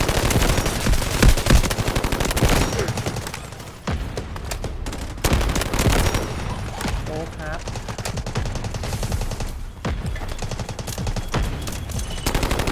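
Artillery barrage and gunfire in the mobile shooter Delta Force Mobile: dense, loud bursts of machine-gun fire and rapid shots with heavy impacts, nearly continuous, with voices occasionally heard beneath the clamor.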